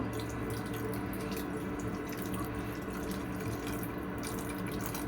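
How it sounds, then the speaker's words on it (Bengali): Water streams steadily into a small pan of Bengali small-fish curry, a continuous close splashing pour with no voices. "এখন আমি ঝোলটা দিয়ে দিব।"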